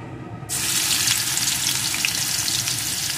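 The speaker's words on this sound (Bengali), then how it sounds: "এখন রসুনটা একটু ভেজে নেব।" Crushed garlic cloves and dried red chilli sizzle steadily in hot oil for cauliflower bharta, a dense, loud fry that starts abruptly after a brief silence and continues without talk.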